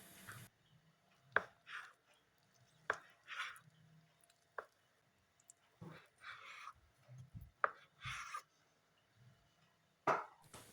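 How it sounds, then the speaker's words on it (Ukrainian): A knife strikes a cutting board in irregular chops as boneless, skinned thigh meat is cut into cubes, with soft cutting and scraping sounds in between, up close in a quiet room. "Зі стегна знімаю шкірку та виймаю кістку і нарізаю м'ясо кубиками"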